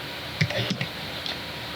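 A few quiet, scattered keystroke clicks from typing on a computer keyboard while coding, close and faint over a low background hiss.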